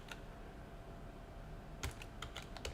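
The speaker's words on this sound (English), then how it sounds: "the command that we're typing in again is umount" Fingers tap out a command on a computer keyboard: a single keystroke comes first, then after a pause a quick, close run of several clicks.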